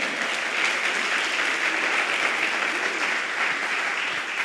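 A church congregation applauds, dense sustained clapping from many hands filling the room at a steady loud level with no pause.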